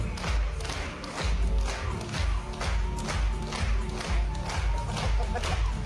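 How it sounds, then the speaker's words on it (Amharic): A crowd of Russian university students stands and applauds in a played-back recording, with steady rhythmic bursts of clapping and loud crowd noise throughout. "ተነስተው ነው ያጨብጨቡ።"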